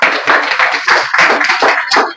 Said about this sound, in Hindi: ताली चाहिए।